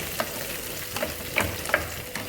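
Poha upma stirred in a pan, a steady soft frying sizzle with a few light scrapes and taps of the spoon against the pan, close and alone.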